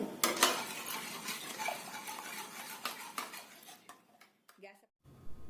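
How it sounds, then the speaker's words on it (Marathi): A spoon clatters and scrapes against a metal pan as the remaining ghee is stirred in for rava ladoo with cardamom, sharp close knocks coming in quick bursts before a short quiet gap and one last clink. "तूप आपण जे शिल्लक ठेवलंय ते सगळं तूप यामध्ये घालायचं सलग हलवायचं"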